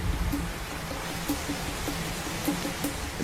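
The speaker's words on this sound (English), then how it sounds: "heavy rain falls in blasting showers" A steady hiss of heavy wet-season rain falling in tropical Australia, broad and even, with a few faint drops and taps standing out now and then.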